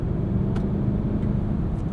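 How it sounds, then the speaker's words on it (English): The 2021 Mercedes-Maybach GLS 600's V8 engine rumbles low and steady while driving, a muted, smooth drone heard from inside the cabin with no talking. "This V8 does make a good noise though, kind of rumbles away in the background."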